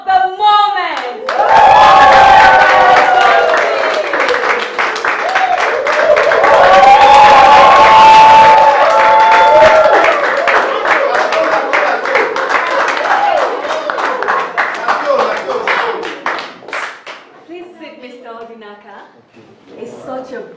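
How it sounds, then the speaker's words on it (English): A studio audience breaks into loud, sustained clapping and cheering with shouts and whoops, swelling and then fading after about seventeen seconds into scattered voices. "The biggest applause for the man of the moment!"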